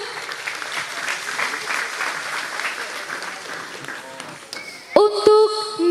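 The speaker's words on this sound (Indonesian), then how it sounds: "Beri tepuk tangan terlebih dahulu." Crowd applause at a community discussion gathering in Pemalang, steady clapping for several seconds before sustained music tones cut in sharply near the end.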